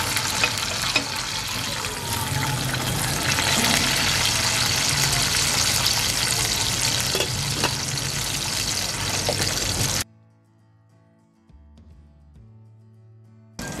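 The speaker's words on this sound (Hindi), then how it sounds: "ये सब मैं घी में फ्राई कर लूँगी।" Raisins, chopped coconut and almonds fry in ghee with a continuous soft sizzle and bubbling for about ten seconds, then the frying noise cuts off abruptly, leaving faint tonal sounds.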